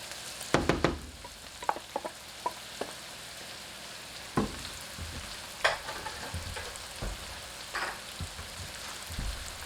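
Mushrooms and browned meat fry in a pan for lasagna, giving a steady soft sizzle with scattered clicks and scrapes from stirring. No talk.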